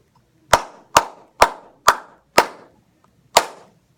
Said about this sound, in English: I will clap it again here in a little bit.